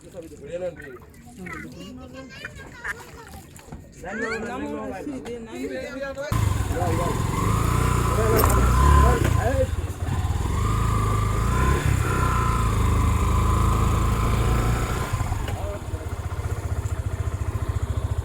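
Someone speaks briefly, then a motorcycle engine starts up and idles close by, a loud steady rumble that runs on under further talk.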